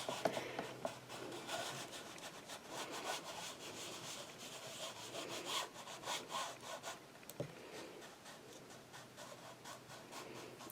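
An inked stamp plate being rubbed and twisted onto buffalo plaid cardstock during card making, a steady close scratchy rubbing that continues throughout the clip, with no voices.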